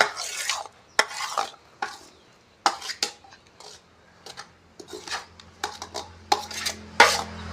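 Manchurian ball mixture is mixed with spices, bursts of clinking, scraping and tapping of a utensil against a metal bowl in an uneven rhythm, close and fairly clear.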